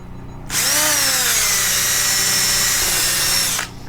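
A power drill bores a hole to mount a wand hook on a Spirit Proton Pack, one loud, steady whine lasting about three seconds, close up and without talk.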